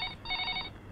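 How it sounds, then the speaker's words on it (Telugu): A telephone rings indoors in a single brief burst of bright electronic trilling tones, close and clear with no voices. "అదిగో డాడీ ఫోన్ చేసినట్టున్నాడు"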